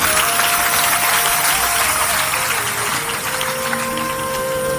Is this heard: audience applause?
yes